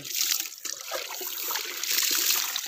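Water splashes and trickles steadily while a dog is bathed, a close, continuous wet pouring sound with small surges and no talking.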